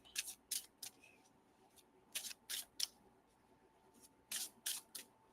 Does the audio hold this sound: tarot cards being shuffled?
yes